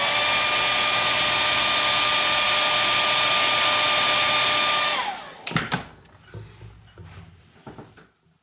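A hair dryer blows steadily at close range onto a watercolor painting for about five seconds, then switches off, leaving faint rustles and handling sounds.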